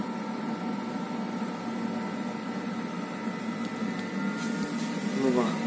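KIPI burner fan in a Mocek boiler, blowing at 80% during its cleaning cycle: a steady close whooshing hum, with a few clicks and a brief rising whine near the end.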